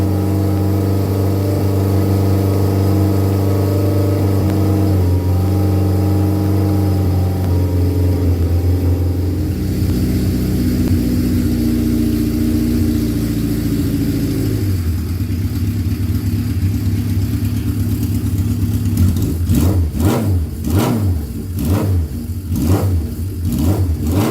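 Suzuki GS550 motorcycle engine running loud and steady close by, with a settled idle that shifts pitch partway through before a run of sharp revving blips near the end.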